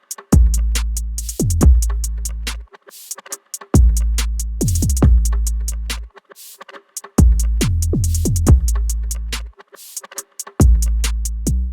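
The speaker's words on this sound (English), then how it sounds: "Now our whole drum section should sound like this." Mixed beat drum section with booming 808 bass and punchy kicks, heavy low end repeating in a steady loop with short gaps between bars, bright hats and percussion on top, loud and close with no voices.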